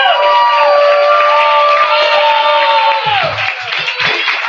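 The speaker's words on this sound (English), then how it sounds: "let's clap it up, let's make some noise" An open-mic audience claps and cheers for a performer taking the stage, a steady wash of applause with whoops that thins out near the end.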